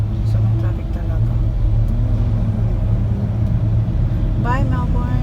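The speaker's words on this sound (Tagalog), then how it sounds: "Sobrang traffic talaga." Heavy road traffic rumbles steadily around a stopped or slow vehicle, a dense low engine drone with a passing horn-like tone near the end, while a person talks over it.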